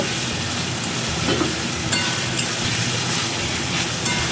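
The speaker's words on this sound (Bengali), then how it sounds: "এদিকে টমেটোটা প্রায় কষিয়ে এসছে" Tomato fries with turmeric, chilli and cumin powders in a pan for khichuri, giving a loud steady sizzle with occasional light stirring taps and no talking.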